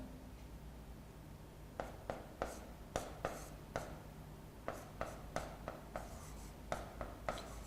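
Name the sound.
writing on a board during a lecture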